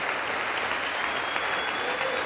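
Applause and cheering in the chamber at the 2024 State of the Union address: sustained, dense clapping from a large audience holds at an even, strong level from start to finish.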